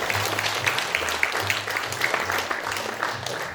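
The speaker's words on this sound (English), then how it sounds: "Give them a round of applause" A theatre audience at a Fringe mind-reading show gives a round of applause, a moderate, steady patter of many hands clapping, with a low voice murmuring underneath.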